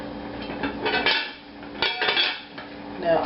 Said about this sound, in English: I'm going to put the top on for this to warm up.